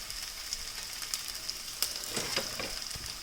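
Mustard seeds splutter in hot oil in a pan while dried anchovy thokku is cooked, a steady frying sizzle with scattered small pops, close and fairly quiet.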